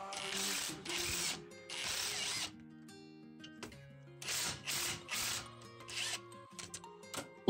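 Ratchet wrench removing 10 mm bolts from the clutch of a Nissan Xterra/Frontier during clutch replacement, heard as several bursts of rapid clicking with pauses between them.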